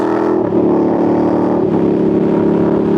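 A motor vehicle accelerates hard with a sustained loud engine drone and two brief dips where gears shift, wind noise layered over the steady roar.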